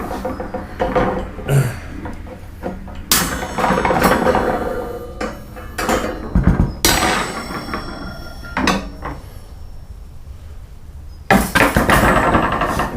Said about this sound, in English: cut-off wheel on a hand grinder.